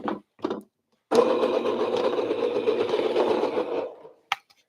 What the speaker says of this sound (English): We're going to put that into our grinder. We're going to choose a medium setting.